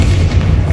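Bombarda explosion spell cast in the video game Hogwarts Legacy: a single dense, low booming blast that fills the short moment with heavy rumble.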